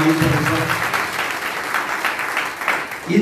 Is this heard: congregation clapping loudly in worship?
yes